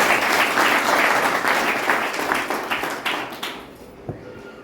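A village panchayat assembly applauds with a burst of many hands clapping, loud at first. It gradually thins into scattered claps and fades out, with a lone sharp clap near the end.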